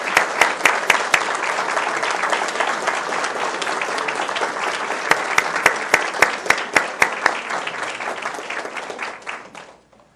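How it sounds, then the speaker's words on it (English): Audience at a Cabarrus County school board meeting breaks into sustained applause, dense clapping with sharp individual claps standing out, tapering off and fading at the end. "let's give Paige a round of applause"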